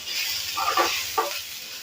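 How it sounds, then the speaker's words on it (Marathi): Grated coconut roasting in a little oil in a pan, a steady close sizzle with a couple of brief stirring scrapes. "एक पाव चमचा मी तेल टाकले कारण खोबरं पण आपल्याला ह्याच्यामध्येच भाजायचं आहे"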